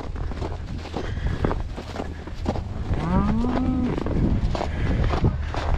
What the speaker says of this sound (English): This time some of the cows decided to stay out.